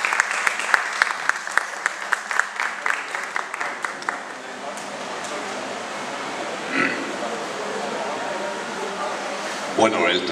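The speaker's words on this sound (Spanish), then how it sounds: "yo les pido a ustedes un aplauso para mi editor" An audience claps for the editor at a book presentation conference, a burst of close clapping in the opening seconds that thins out and fades into a quieter room tone.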